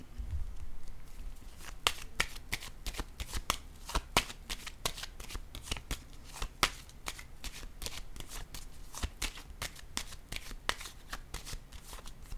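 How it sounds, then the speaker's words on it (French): Oracle cards handled and set down, a fast run of crisp riffling flicks and snaps, close and fairly soft, continuing steadily without speech. "Je vais déposer une carte ici."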